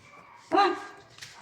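Roxy, a Pomeranian puppy, lets out a single sharp yappy bark close by, followed by a faint whimper.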